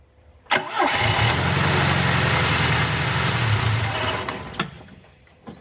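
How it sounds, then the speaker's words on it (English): A Triumph TR7 engine, suspected of bad or collapsed mounts, cranks and catches with a sharp start, then runs at a loud, rough, steady idle before cutting off abruptly. "Let's start the engine up and I'll show you what I'm talking about."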